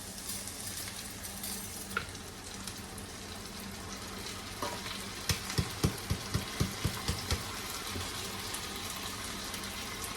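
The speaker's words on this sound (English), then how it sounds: "I'm gonna pour this into the mixture" Steady frying sizzle with stirring and scraping, a brief clatter, then a run of soft rhythmic thuds as cooked onions are tipped into a pan for fish curry.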